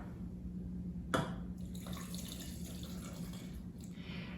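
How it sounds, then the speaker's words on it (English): Water pours from a cup into a pan of light brown sugar, a steady close splashing trickle running throughout with a brief sharper clink near the start. "to this, we're going to add 1 cup of water"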